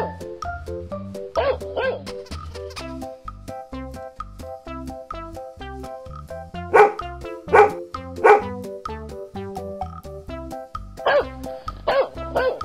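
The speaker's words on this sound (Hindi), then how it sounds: "वो शाणा के पीछे भौंकता हुआ दौड़े जा रहा था।" A dog barks repeatedly as it runs after someone, with loud, rhythmic bursts of yapping over background music in a cartoon story.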